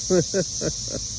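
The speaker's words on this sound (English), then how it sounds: "Y'all hear the cicadas?" A steady high-pitched insect drone runs throughout, with a few short voiced sounds over it.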